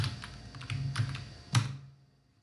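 A few clicks on a computer keyboard while a new code file is created, with several distinct close keystrokes and one firmer final press before the sound fades to near silence.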